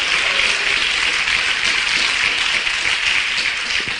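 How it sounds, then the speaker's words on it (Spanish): A church congregation claps together in a sustained, dense wash of applause that holds evenly throughout without voices rising above it. "Denle un fuerte aplauso a Jesús"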